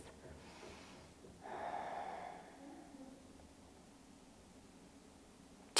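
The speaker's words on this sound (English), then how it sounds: "Let's go for another 3 deep breaths." Deep breathing during a Hatha yoga session, one slow audible breath swelling and then fading, close and quiet against a hushed room, with no voice.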